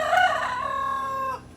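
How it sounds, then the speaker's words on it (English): Chickens on a small farm with a rooster crowing close by, one loud drawn-out crow with clucking hens mixed in, heard alone without talk. "I'm just learning to get over the chickens talking over me all the time."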